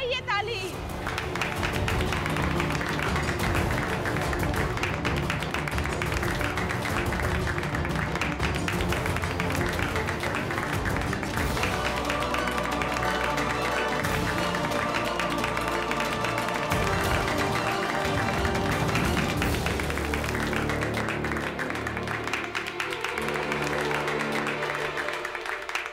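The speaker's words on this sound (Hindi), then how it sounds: "तो इसके नाम पर बजाइए ताली।" A studio audience claps and applauds at length during a Hindi television drama scene, the clapping thick and sustained over music and voices.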